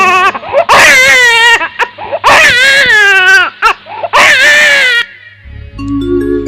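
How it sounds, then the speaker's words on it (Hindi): A newborn baby crying in a royal palace, loud, close wailing in three long bursts with short gasps between, fading into quieter background sounds at the end. "पूरे राजमहल में बच्चे की रोने की आवाज गूंजने लगते हैं।"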